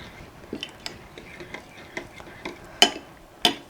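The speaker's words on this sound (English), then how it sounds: "I'm gonna mix it in" Mozzarella cheese being stirred into an oats and egg mixture in a bowl, soft irregular clicks and scrapes of a utensil, close and quiet with a couple of sharper taps.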